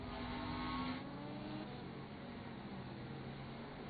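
GT race cars in a Le Mans racing game sweep past the start-finish line, a steady engine roar with one car's tone fading as another follows close behind.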